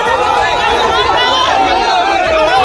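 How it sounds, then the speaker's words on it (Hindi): A large, agitated crowd of villagers heading for a house forms a loud, continuous din of overlapping shouting and chatter, steady and close for the whole stretch. "तभी बहुत सारे लोग शोर करते हुए टीएमसी नेता शाहजहां शेख के घर पहुंच गए।"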